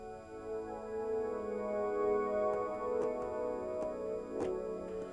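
A MIDI chord-kit chord plays back in a music production program, a sustained soft pad of layered tones with faint percussive ticks sounding underneath.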